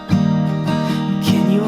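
Guitar strumming the bridge chord progression of the worship song More Than Able, steady rhythmic chords with repeated accents, close and fairly loud, with no voices.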